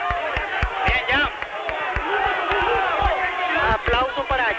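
A large, angry football crowd at a Paraguayan league match between Luqueño and Cerro Porteño roars with a dense, continuous mass of shouting voices and chanting, with sharp bursts and thuds rising out of the steady din.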